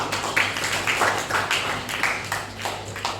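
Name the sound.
class applauding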